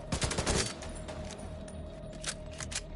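Gunfire from a single-shot rifle in the video game The Division 2, with a quick cluster of loud cracks at the start, then quieter scattered shots over a steady background hum.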